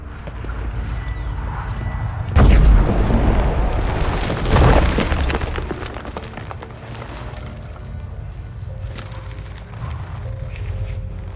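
Stalagmites blasted apart in a cave in The Witcher 3: Blood and Wine, with a heavy booming explosion followed by a second rumbling burst, then a low lingering rumble fading under ambient game sound.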